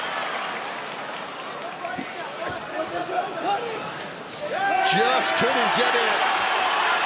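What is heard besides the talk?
fight crowd cheering for Wojtas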